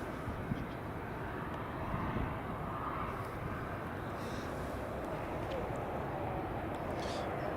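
A British Airways City Flyer Embraer E190 holds short at Edinburgh Airport, its engines giving a steady, broad, moderately distant roar with wind-like rumble throughout.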